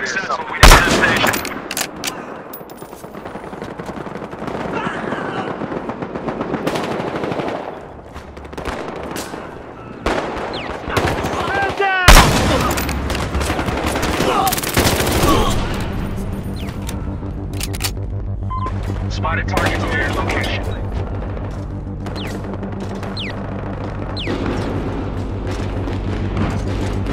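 Gunfire in the video game Battlefield Hardline, with loud bursts of rifle and automatic fire, heavy booming impacts and a sustained low rumble, mixed with game music and effects.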